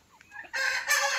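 A fighter rooster on a farmhouse property in Khed crows once, loud and close, the call rising sharply and holding as a bright, harsh cry for under a second with no talk over it.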